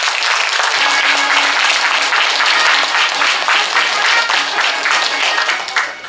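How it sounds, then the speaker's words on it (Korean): Crowd at a literary festival in the Jirisan mountains applauding warmly, dense loud clapping sustained for several seconds before tapering off at the end, with a faint voice in the room. "문정영 재정위원장님에게 힘찬 감사의 박수 부탁드립니다."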